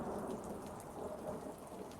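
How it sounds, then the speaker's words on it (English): Steady rain pours with low thunder rumbling through it in a continuous, dense storm ambience at a fairly quiet level, with no voices. "because it's raining"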